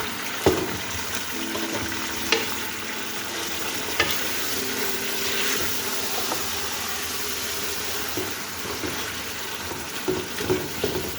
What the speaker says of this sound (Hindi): इसको मैं सिर्फ 2 मिनट भूनूंगी